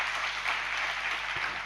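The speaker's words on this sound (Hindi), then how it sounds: "ये क्यों दिखाने के लिए आप तालियां बजाते हो?" Audience applause during a Hindi religious discourse by a Jain monk, a steady dense clapping texture sustained throughout the short moment at moderate level with no talk over it.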